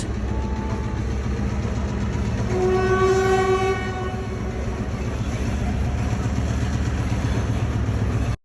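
A train rumbles steadily past on a railway bridge in Ella, Sri Lanka, its horn sounding once in a long blast over the continuous rolling clatter of the wheels.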